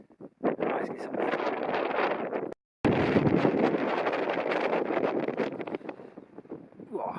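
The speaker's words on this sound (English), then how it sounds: "Whoa, windy." Strong wind gusts buffet the microphone high on open Dartmoor moorland near Staple Tor, a loud, continuous roar with one brief cutout partway through.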